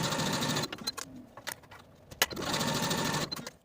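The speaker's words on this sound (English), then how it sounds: "Sew these pockets to the front side seams with a 1/2 inch seam allowance." A sewing machine stitches pajama shorts pockets to the front side seams, running in two loud, steady bursts separated by a short pause with a few small clicks and handling noises.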